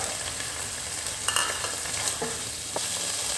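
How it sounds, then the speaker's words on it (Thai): Dried squid being stirred into a simmering Thai tepo curry, with soft scraping and stirring noises over a steady low sizzle and a few sharper clinks of the utensil against the pot. "คลุกเคล้าให้เข้ากันครับ ใส่ปลาหมึกแห้งลงไปครับ"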